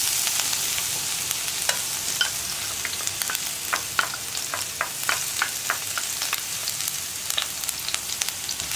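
Chopped ginger, green chili and garlic frying in hot coconut oil in a pan: a loud, steady sizzle with crackling pops and occasional stirring scrapes throughout.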